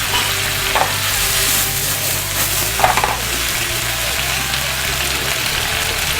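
White wine and capers sizzling and reducing rapidly in a hot pan for chicken piccata, a continuous loud crackling fry with a couple of brief utensil clinks and no talking.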